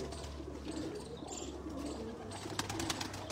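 A rooftop pigeon coos softly nearby, low repeated murmurs over faint background noise and a few brief clicks.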